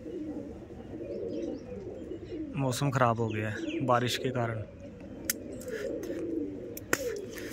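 Pigeons coo in soft, low bursts under a person's speech in overcast, rainy weather while the birds feed on grain, with a few sharp chirps and clicks near the end.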